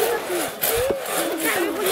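A hand saw cuts through wood in steady back-and-forth rasping strokes, close and continuous, with a squeaky scraping tone on each pass.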